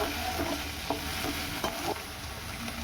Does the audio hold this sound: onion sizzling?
yes